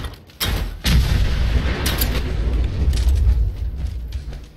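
Explosions boom in the video game Fallout 4 during a fight with a Deathclaw, with several heavy blasts followed by sustained loud rumbling and crackling debris.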